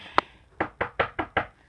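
Knocking on a door in an animated scene: one sharp rap, then a short pause and five evenly spaced knocks, close and clear with no talking.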